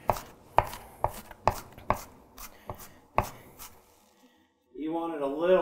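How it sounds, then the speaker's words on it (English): Chef's knife chopping an onion on a cutting board: about eight crisp, evenly spaced chops close by, then a brief pause before a person starts talking. "I want a really nice cut to this because, like I said, I don't want huge hunks of onion in there."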